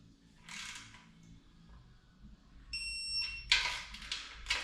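A digital torque wrench gives a short, high electronic beep on reaching set torque while rebuilding a Ford Fiesta ST 2.0 Duratec engine, surrounded by faint clicks and rustling handling noises nearby.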